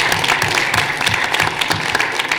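A school board meeting audience claps steadily, a dense, even patter of many hands at moderate volume with no voices over it.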